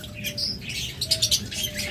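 Pet lovebirds chirp and tweet in quick bursts close by, sharp bright calls over a soft low background hum.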